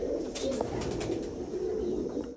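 A pair of red pigeons in a cage coo continuously in low, throaty murmurs, a steady rolling drone close by with no talking.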